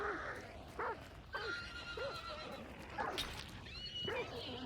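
Horses in the video game Hunt: Showdown whinny in several separate bursts spread across the moment, with faint hoof clip-clops and ambient noise underneath and no talk.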